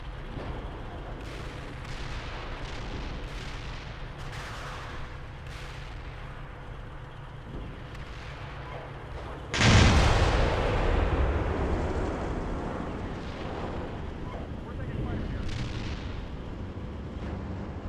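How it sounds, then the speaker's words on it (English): Mortars firing smoke rounds in Steel Beasts Pro PE boom with repeated distant thuds, then one loud close blast that rolls off slowly, with further muffled reports after it. "I'm trying to get smoke going, the mortars don't want to cooperate though"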